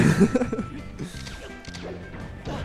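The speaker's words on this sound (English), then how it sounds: "they're putting, raw F smashes into Tarik's shield" A forward smash striking a shield in Super Smash Bros. Melee during a tournament match, a sharp crashing hit near the start followed by quieter game sounds and crowd noise.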